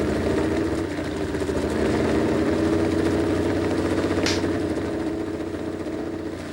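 A Porsche Targa engine idles steadily at close range, a low, even rumble with no change in pitch, and no voices over it.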